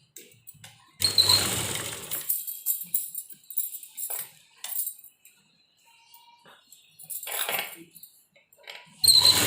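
A sewing machine stitches a kurti in bursts, with a fast run at the start, shorter runs in the middle and near the end, and quiet pauses and light handling clicks in between.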